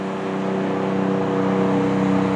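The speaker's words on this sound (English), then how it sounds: "There's a car following." A car passes on a road while a radar gun measures traffic speed, its steady engine and tyre hum loud and close throughout the short stretch, with no talk.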